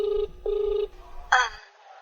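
A telephone rings while calling Sandy: two short ring bursts with a gap, followed by a brighter electronic chirp, close and fairly loud, with no talking over it.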